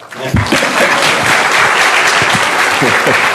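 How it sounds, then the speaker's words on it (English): Audience applause at a public forum on policing and race in South Carolina, a full burst of clapping that starts sharply and holds steady and loud, with a few faint voices beneath it. "Please clap."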